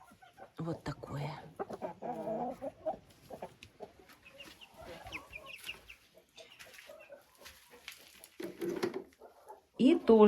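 Leghorn hens cluck repeatedly close by a nest, short bursts spread through the clip, with a person talking over much of it and a louder burst at the end.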